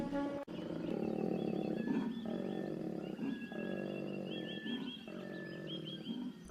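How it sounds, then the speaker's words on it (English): A male koala in Otway Forest growls in a deep, rasping bellow, pulsing steadily and loudly close by for several seconds, with brief breaths between the rumbling phrases. "And he reinforces his presence with growls."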